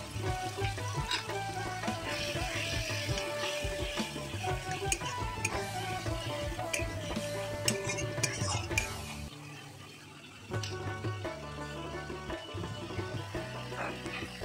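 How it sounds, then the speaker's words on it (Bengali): A spoon scrapes and stirs spice paste with fried potatoes in a pan, a faint sizzle under irregular utensil clicks and soft background music, pausing briefly near the end. "মশলাটা ভালোভাবে কষা হয়ে গেলে"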